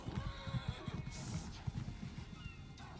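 Horse in the Elder Scrolls Online game whinnying loudly with a rising neigh, accompanied by a run of clip-clopping hoofbeats, fairly close and clear.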